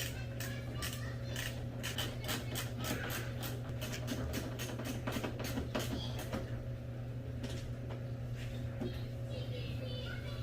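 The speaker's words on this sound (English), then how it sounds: "So 8mm ratchet and socket, go ahead and draw it down." An 8mm ratchet and socket clicks in a rapid, regular series, drawing down a plastic rear fender flare bolt on a 2015 Subaru WRX STI, over a steady low hum. The clicks slow and fade toward the end.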